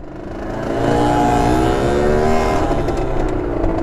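A car or motorbike engine revving and rushing past close by in Paris traffic, rising at the start then holding a loud, steady whirring roar through the rest.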